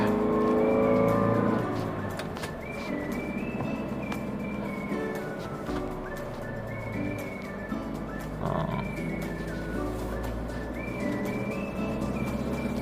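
A car drives along Ligaya Drive toward Silang, Cavite. A steady low engine and road rumble runs throughout under tonal, music-like sounds, slightly louder in the first couple of seconds.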